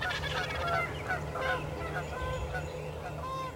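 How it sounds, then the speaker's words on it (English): Wild turkey gobblers calling on a Mississippi River island at dawn, a cluster of overlapping gobbles at moderate distance over steady outdoor background noise. "The field actually filled up with strutting gobblers before we had enough light to film."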